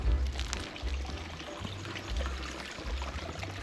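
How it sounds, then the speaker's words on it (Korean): Water flowing in a park in Machida, Tokyo, runs as a steady, fairly quiet pouring trickle with faint rumbling underneath, heard alone without voices. "여기가 진짜 좋은 게 뭐냐면 이 물 흐르는 소리 들리세요?"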